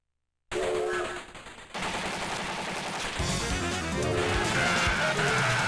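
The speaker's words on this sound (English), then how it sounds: "Heavy machine gun." A heavy machine gun fires rapid bursts in a Neo Geo CD video game, dense continuous rattling gunfire with explosion-like crashes layered over game music, loud and sustained after a brief silent start.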